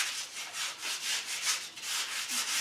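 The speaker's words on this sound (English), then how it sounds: "take some 220 grit sandpaper, put your whole bundle together" Hand sanding a bundle of thin wood veneer slices with 220 grit sandpaper, a steady rhythmic rasping of back-and-forth strokes, soft and close with no talking.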